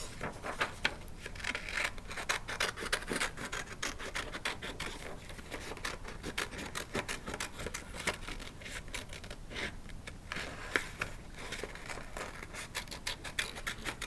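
Scissors cut out a paper heart with a steady run of close, crisp snips and scraping rustles of paper, soft and repeated for the whole stretch, with no voice.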